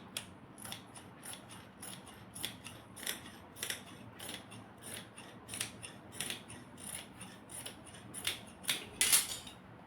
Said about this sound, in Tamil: இங்கே பாருங்கள், அன்னீவனாக இருக்குது, இதை வந்து கட் பண்ணி விட்டுக்கிறேன்.